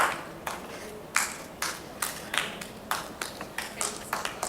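Sharp, irregular claps ring out one after another, a few people clapping loosely rather than full applause, with no talking.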